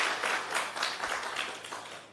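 A room full of conference attendees applauds two presenters with dense, steady clapping that rises and holds at a moderate level before beginning to thin out.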